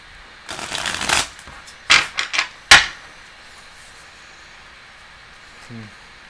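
Quick riffling bursts of tarot cards being shuffled, a few short rapid flurries close by, then quiet.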